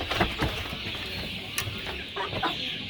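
Chickens kept for egg laying on an African farm cluck in short scattered bursts, fairly close, over steady outdoor background noise, with no talk.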